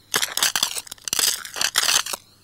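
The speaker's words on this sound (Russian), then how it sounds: "Нет, яйцо трескается само." In a children's cartoon, an egg cracks open as a chick hatches: several quick, crisp crunching and crackling bursts in an uneven rhythm, close and fairly loud, with no talk over them.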